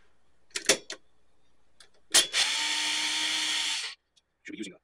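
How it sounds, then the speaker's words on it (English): A power drill whirs in one loud, steady burst of about two seconds while a Quasar VR-1000 VCR is taken apart, with scattered clicks and handling knocks before and after. "I think the microphone's getting overpowered by the drill"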